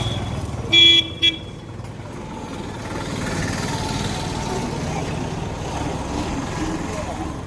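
Street traffic near Palani railway station, with mini buses and other vehicles rumbling past and two short car horn toots early on over a steady engine din.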